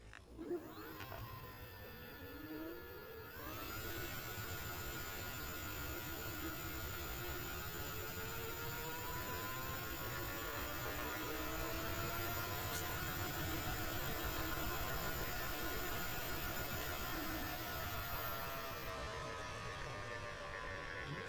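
A steady electric motor whine from a Joyor S10S-Z electric scooter at full throttle climbs in pitch and holds high under a constant rush of wind and road noise, loud and close throughout.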